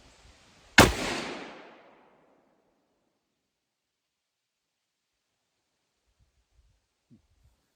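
A single rifle shot cracks at a cabin shooting range, one loud close blast whose echo decays over about a second, followed by near silence with a faint brief rustle.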